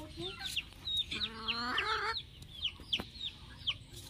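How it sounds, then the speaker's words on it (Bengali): A flock of backyard hens clucks close by in a garden, short repeated calls and one longer drawn-out cackle over soft outdoor background noise. "তো মুরগিগুলো পেছনে পেছনে যাচ্ছে।"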